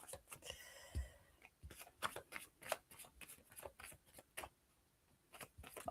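Playing cards riffled and shuffled up close, a long burst of quick flutters followed by a run of crisp, separate snaps and slaps, with no voices over it.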